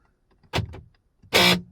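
An MG ZS EV door latch makes a harsh, grinding mechanical noise as the car locks, with a failing part inside. Two short bursts sound close and loud, the second broader and louder, with silence around them.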